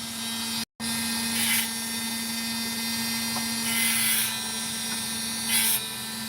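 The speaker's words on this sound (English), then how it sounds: "the back of the Dremel is cutting better than the front blade" A Dremel rotary tool whines steadily while cutting opal, with three short bursts of gritty, hissing grind where the blade bites into the stone, heard alone and fairly quiet.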